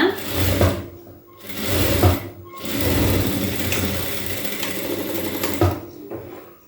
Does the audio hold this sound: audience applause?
no